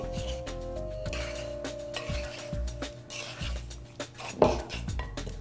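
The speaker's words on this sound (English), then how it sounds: "Stir it up." A spoon stirs apricot tart filling seasoned with salt in a bowl, making repeated scraping and clinking strokes at close range over a soft sustained musical tone, with one louder knock near the end.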